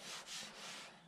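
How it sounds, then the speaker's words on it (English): A belt sander works an epoxy table, a close, steady rasping hiss that swells and eases in a few strokes, with no talking. "I'm gonna continue sanding it with the belt sander first"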